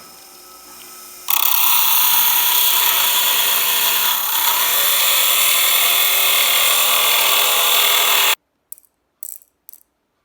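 A rotary tool with a thin eggshell cutoff wheel cuts metal during a jewelry repair on a bracelet extender: a loud, steady high whine runs about seven seconds, then stops abruptly, followed by a few short clicks.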